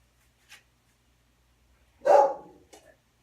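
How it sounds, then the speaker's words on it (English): A dog in a home craft room gives one short, sharp bark, loud and close, with a small yip just before and a softer one after amid near silence. "Have no idea why he barks."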